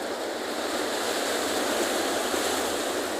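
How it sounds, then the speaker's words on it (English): Continuous roar of surf breaking heavily on a reef on a stormy day, a broad wash of crashing water with wind noise, no voices. "It's incredible to see the power of those waves."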